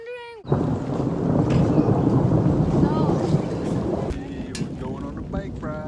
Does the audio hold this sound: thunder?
yes